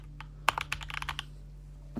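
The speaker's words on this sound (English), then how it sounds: "I'm just going to type Hearthstone here." A short burst of keystrokes clatters on a computer keyboard, close and quiet, with a quick run of taps and then a final single key press.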